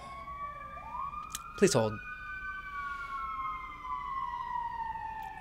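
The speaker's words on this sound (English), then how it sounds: "Ambulance!" A siren wails with slowly gliding tones in the distance, while a voice briefly speaks over it.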